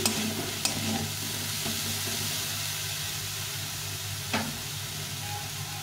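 Banana flower fries in a pan with a soft, steady sizzle, and a few brief scrapes of stirring near the start and again later, moderate in level with no voices.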